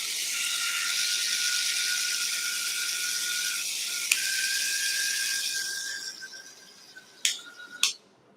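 An electric hair removal device with a massage wheel runs with a steady high-pitched whir and whine for several seconds. The whine then fades and two sharp clicks follow near the end.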